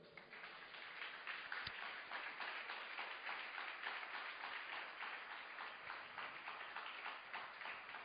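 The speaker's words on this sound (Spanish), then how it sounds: "Denle un fuerte aplauso." A church congregation claps together in a long, steady round of applause, dense and sustained for several seconds, fairly distant and even, with one sharp tap standing out early on.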